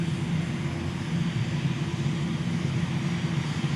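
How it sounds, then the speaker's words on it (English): Jet dragster engine at a drag racing event at Tucson Dragway, a loud, steady roaring whoosh sustained throughout without a break, sounding fairly close and dominating everything else. "that nearly 300 mile per hour arrival of Scott Arriaga, the driver of the Wicked Sensation jet dragster."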